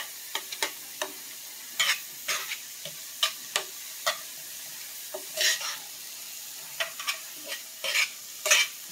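Spoon stirring shrimp and grits in a hot pan, irregular close scrapes and clacks against the pan over a soft background sizzle, with no talk.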